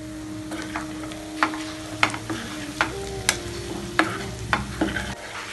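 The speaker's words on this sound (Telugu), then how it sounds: "ఇలా 3 నిమిషాల వరకు ఫ్రై చేసుకోవాలి" Fried prawns tossed and stirred in a hot pan for a prawn fry, a steady sizzle broken by distinct spatula clanks and scrapes against the metal, nobody speaking.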